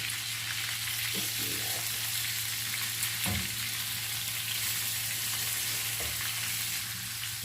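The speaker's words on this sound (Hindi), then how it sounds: "ये मसाला से लो हीट पे पक रही है।" Chicken mandi simmers in masala over low heat, giving a steady, close frying sizzle throughout with a few faint clinks and stirring touches, no voices.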